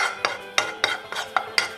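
A utensil scrapes and taps against a pan while gram flour (besan) dry-roasts, giving six sharp, evenly spaced strokes at close range with no talking.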